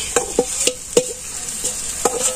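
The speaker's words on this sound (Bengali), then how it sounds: "যে পেঁয়াজ আর মাছ দিয়ে দিই" Fish and onions fry in a pan with a steady sizzle, punctuated by sharp stirring scrapes and clacks every half second or so, close and clear.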